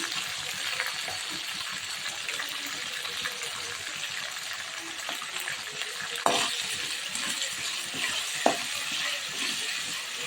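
Small shallots with dried red chillies and salt sauté in a pan for a gravy, a constant sizzling hiss broken by a couple of sharp stirring clacks, close and steady with no talking.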